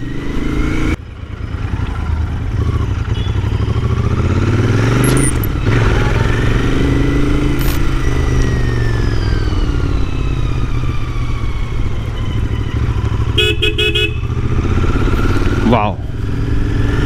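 A Royal Enfield Continental GT 650 motorcycle engine heard on board while riding, droning loudly and steadily with rising and falling revs as it downshifts, plus a few brief clicks and wind buffeting.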